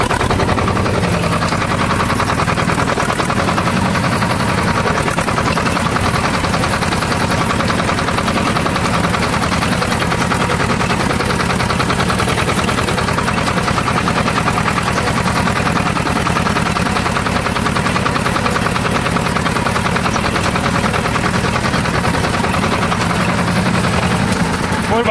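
A Swaraj 724 tractor in first gear runs hard, engine revving while pulling a heavy 6x6 disc harrow through a field. The loud, rough drone is steady and close throughout.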